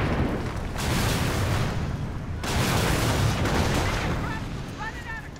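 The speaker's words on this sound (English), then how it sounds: "Bazookas and Panzerschrecks just firing out in a huge volley." Bazookas and Panzerschrecks fire in a huge volley during a Company of Heroes battle, a dense, continuous roar of blasts and booms filling the whole stretch, loud and close, with faint voice-like calls near the end.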